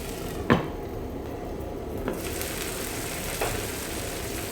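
Tomatoes and mixed vegetables sautéing in a pan for vegetable kothu parotta, a soft steady sizzle with a few clear utensil clinks against the pan, quiet and close.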